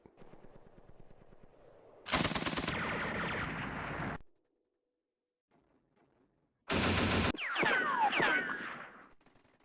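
Machine gun bursts ring out in a Vietnam War strategy video game, two loud sustained volleys of rapid fire separated by a silent gap, with bird-like chirps and whistling effects following the second burst.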